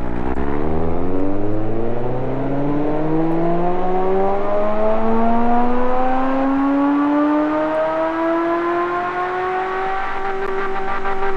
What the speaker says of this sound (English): Very inefficient engine.